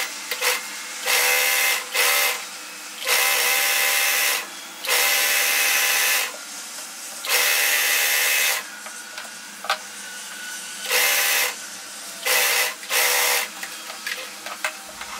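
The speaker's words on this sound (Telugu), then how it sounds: "ఇప్పుడు మనం ఎక్కడైతే స్టిచ్ చేసామో దానికి ఎడ్జ్లో ఇలా జిగ్జాగ్ చేసేసుకుంటున్నాను" A sewing machine zigzag-stitches the edge of fabric for a matching mother-and-daughter frock, in bursts of loud whirring stitching a second or two long, separated by short pauses and softer handling noises.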